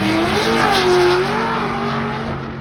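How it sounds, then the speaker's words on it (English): Drag racing cars tear down a drag strip, seen from the fence by the grandstand: one loud, close engine roar whose pitch sweeps up and then settles as the car passes, fading slightly at the end. "Cars going down the racetrack, you're leaning against the railing."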